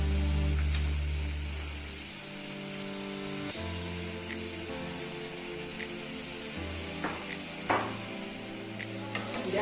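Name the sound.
sautéing lentil fritters in a pan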